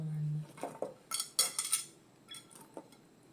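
Tomatoes go into a pot for chicken curry, heard as a brief soft tumble followed by light clinks and knocks of utensils against cookware, close and moderately quiet.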